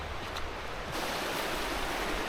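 Close, continuous roar of a river flowing beside a wet, leaf-covered path, a steady broadband rush with no speech.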